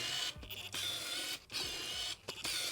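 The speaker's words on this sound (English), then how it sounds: "this is the loudest autofocus motor I've ever heard in a lens" A Canon RF 75-300mm lens autofocus motor whirs and grinds in three short mechanical bursts, close and quiet against a steady background hiss.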